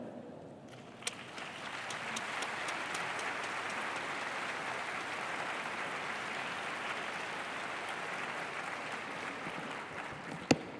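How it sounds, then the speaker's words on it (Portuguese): Audience applause greets a speaker being introduced at a talk on Chico Xavier's psychographic work, a broad sustained wash of clapping that holds steady for about ten seconds with no voices over it. "La vamos a recibir con un aplauso porque es una compañera y trabajadora entrañable."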